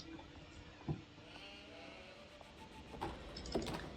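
Sheep in the Age of Empires 4 video game, with a few faint short bleats at separate moments over a quiet game background.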